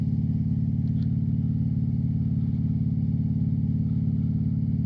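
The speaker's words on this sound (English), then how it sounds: "And I'm keeping the motor down a low RPM so it don't drown me out" A motorcycle engine held at low RPM during a fall ride, a steady, even low rumble that stays constant throughout with no revving and no voices.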